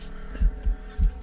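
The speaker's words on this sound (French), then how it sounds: "c'est un bruit du mal from the fog." Deep, ominous low throbbing from the lurking evil in the horror game From The Fog, three heavy pulses swelling and fading at a slow irregular rhythm over a faint droning hum, with no talk.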